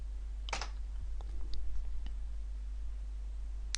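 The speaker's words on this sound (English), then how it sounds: "let's just type in solar power, and let's click search" Brief keystrokes on a computer keyboard while a search term is entered, a few scattered clicks over a steady low hum, with no talk.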